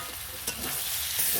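Chicken being stir-fried with salt in a pan, a dense close sizzle with quick spatula stirs and scrapes, no one talking.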